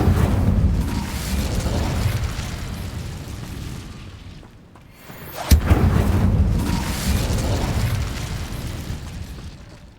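Incendio fire spell in Hogwarts Legacy: a sustained roaring whoosh that dips briefly, then a sharp burst and a renewed loud rumbling blaze, close and with no voice.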